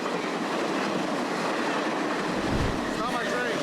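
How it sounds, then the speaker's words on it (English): A train rumbles past nearby in a loud continuous roar, with rattling wheels and a faint metallic squeal toward the end. "I don't know if this is my train. By the sound of it,"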